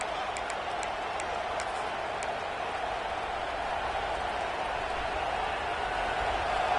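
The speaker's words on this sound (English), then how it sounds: "this crowd coming to life here, trying to help the defense get a stop" Stadium crowd noise in a college football video game rises as a steady, dense roar behind the defense, continuous and fairly loud with no clear breaks.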